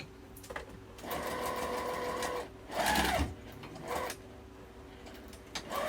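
A sewing machine runs in bursts while stitching a fabric wallet made from two fat quarters, with a louder back-stitch run in the middle and brief pauses between passes, close and clear.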